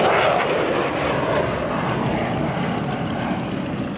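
A loud, continuous roar of an F-16 fighter jet passing in an air show demo, a broad rushing engine noise that holds steady without voices.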